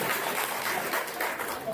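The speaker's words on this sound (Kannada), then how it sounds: "ಚಪ್ಪಾಳೆ." Audience at a government employees' cooperative society meeting breaking into applause, a steady, fairly close wash of clapping with a voice speaking over it.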